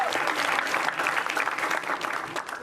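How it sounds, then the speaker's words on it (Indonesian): A stand-up comedy show audience in Indonesia gives a comedian a round of applause, dense, continuous clapping from a large crowd that stays loud and even from start to finish. "Kasih tepuk tangan sekali buat Koide Namizo."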